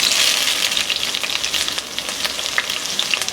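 Cut brinjal pieces frying in hot mustard oil in a kadai, a loud dense hiss and crackle that holds steady from start to end, with a few louder spits and no talking.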